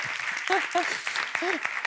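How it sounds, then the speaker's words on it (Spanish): A studio audience claps during a Spanish-language interview with an actress, a steady patter of hands running beneath overlapping voices throughout. "pues un aplauso"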